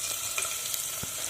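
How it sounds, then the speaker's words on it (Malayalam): Pieces of coconut frying in hot oil with ginger and garlic, a steady bright sizzle with small crackles and a faint stir near the end. "ഇനി നമ്മൾ ഇതിലേക്ക് അടുത്തതായിട്ട് ചേർത്ത് കൊടുക്കുന്നത് തേങ്ങാക്കൊത്താണ്."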